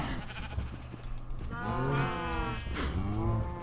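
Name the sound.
cows mooing in Minecraft video game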